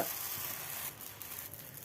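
Rava dosa batter sizzles loudly on an oiled hot griddle, a steady close crackling hiss that eases slightly after the first second.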